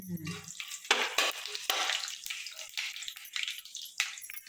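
Garlic, onion, green onion, garlic greens and chili fry in a pan for khichdi rice, bursts of sizzle and stirring scrapes rising and falling, close and fairly busy.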